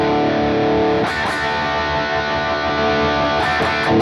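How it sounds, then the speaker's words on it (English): Electric guitar played through a BOSS GT Plexi (Brit Stack) amp model with a raucous, distorted tone: sustained crunchy chords ring out loud and steady, with a fresh strum near the start and a few sharper attacks toward the end. "so you can get different tones from your Plexi. This is a bit more raucous."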